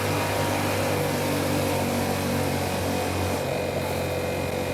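Yamaha MT-07 two-cylinder motorcycle engine droning steadily through its muffled exhaust in a tunnel as the throttle is opened, a dense continuous rumble with wind roar, heard from the rider's position.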